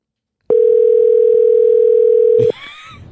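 A loud, steady telephone tone holds for about two seconds, then stops abruptly, followed by a brief burst of faint noise.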